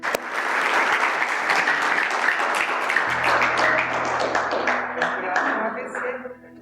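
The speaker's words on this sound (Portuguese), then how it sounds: "Vamos aplaudir o que Jesus fez na vida." Church congregation applauding together, a dense, loud wash of many hands clapping that holds steady, with a low hum entering partway through before the clapping thins and fades near the end.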